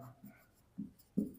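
Handwritten fractions for a math lesson: a pen scratches on paper in a few short strokes, brief and close, with quiet pauses between.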